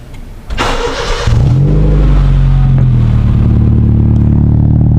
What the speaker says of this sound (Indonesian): ini suara kalau idle ya, habis dinyalain, ini cold start engine guys ya